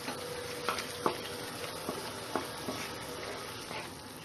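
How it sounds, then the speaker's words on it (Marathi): Cashews go into a thick gravy for a cashew chicken curry and are sautéed in a pan, producing a steady soft sizzle broken by a few sharp taps and scrapes of a spoon. "त्यामध्ये मी आता हे काजू घालून घेणार आहे।"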